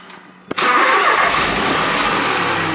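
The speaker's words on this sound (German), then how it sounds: "Auch wenn man das Auto gestartet hat, hat das schon direkt angefangen zu klappern." A Smart 453 Brabus engine cranks with a sharp transient, then catches and settles into a loud, steady idle that continues to the end.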